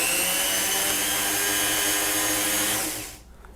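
A Goxawee rotary tool with a sandpaper sanding attachment spins at high speed, giving a loud, steady high-pitched whir that winds down and stops near the end.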